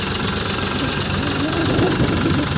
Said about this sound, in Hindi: आप ये देखिए ये ट्रैक्टर आ रहा है, इसके पीछे सिलर मशीन है।